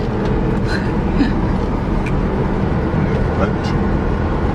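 A car cruises along a road in Barbados, its low rumble and tyre roar constant and close from inside the cabin, with voices chatting over it.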